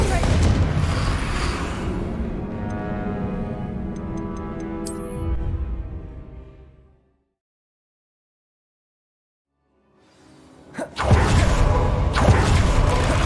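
Confringo fire spells in the video game Hogwarts Legacy erupt in loud, rumbling explosions, a long booming blast that fades to silence before another burst hits, with a shouting voice mixed into the roar.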